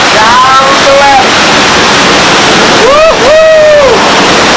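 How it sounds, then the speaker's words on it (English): Meenmutty waterfall in Wayanad, Kerala pours down as a loud, constant close-up roar of rushing water. It fills the whole clip, with faint whistling tones rising and falling beneath it. "that's the way the water is flowing down the left."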